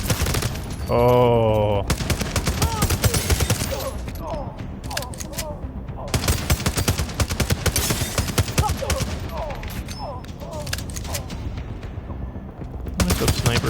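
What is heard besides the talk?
gunfire in video game The Division Resurgence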